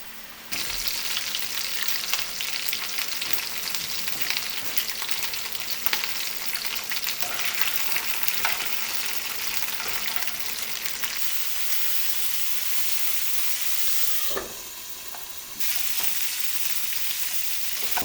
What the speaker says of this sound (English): Sauteing my whole fresh cut green beans.